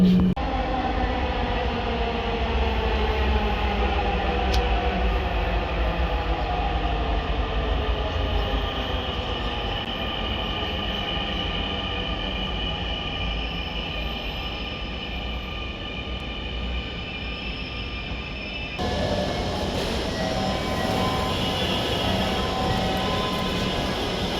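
A Dhaka metro rail train rolls into Uttara North station with a continuous loud rumble and whine that slowly winds down as it brakes, then an abrupt shift to steadier cabin noise.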